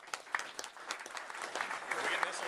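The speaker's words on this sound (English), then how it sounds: "everybody clap for them because they are sponsors" Audience members at a Scrum meetup group clap for the event sponsors, a scattered round of applause that builds and thickens over a couple of seconds, with faint voices mixed in.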